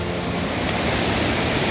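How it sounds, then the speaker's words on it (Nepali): A waterfall along the Langtang Valley trek in Nepal pours as a loud, dense, unbroken rush of water close by. "ट्रेकिङ हिँड्दाको रमाइलो चाहिँ यही नै हो, ठाउँ ठाउँमा यस्तो झरनाहरू देखिन्छ"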